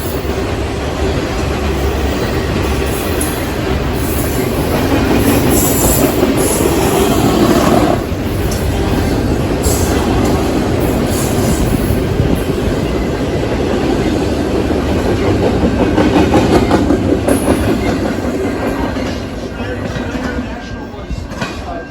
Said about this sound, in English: I just barely got my phone recording in time to see the locomotives go by, and I'm glad that I did because of the Ferromex SD70 Ace trailing second